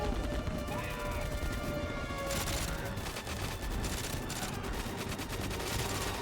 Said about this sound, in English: With kind of questionable audio mixing, where I'm not entirely sure if this gun is supposed to be suppressed or not